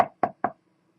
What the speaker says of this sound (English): Then he knock again, blam, blam.